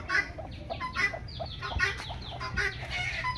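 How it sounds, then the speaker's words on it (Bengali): Free-range desi and farm chickens cluck continuously at close range around a rural home, with several birds overlapping in busy, uneven calls. No one speaks. "দেখুন মুরগি, আমার বাড়ির চতুর্দিকে মুরগি আছে, হাঁস আছে"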